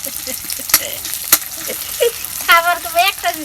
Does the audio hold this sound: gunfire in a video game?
no